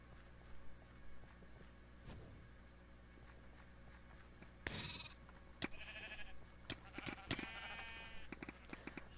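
Sheep in the Minecraft Mineplex arcade game bleat several times in short, clear calls, mostly in the second half, over a quiet game background with no talk.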